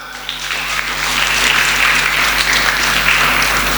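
Church audience applauding, dense steady clapping from many hands filling the space, loud and sustained throughout, with a faint voice underneath.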